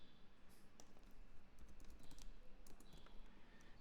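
Keys clatter on a computer keyboard in a steady run of quick, close taps, typing out product details for an online shop listing.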